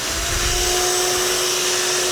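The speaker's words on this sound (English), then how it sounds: "this is the shop vac. So we'll plug this in." A shop vac runs continuously, a loud, steady whine with a droning motor hum, close by and alone without talk.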